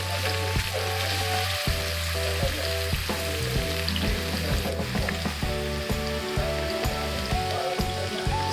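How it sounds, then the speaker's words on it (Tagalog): Garlic and onion sautéing in a pan until golden brown, a constant close sizzle of oil with a steady pattern of sharp spatula taps and scrapes against the pan. "igisa natin yung bawang tsaka onion guys until golden brown para mas mabango"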